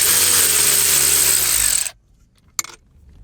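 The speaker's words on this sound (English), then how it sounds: "Great, I dropped the nut." A metal nut drops while work is done on a Trans-Am car: a loud power-tool whine cuts off, then a short sharp clink rings out in near silence.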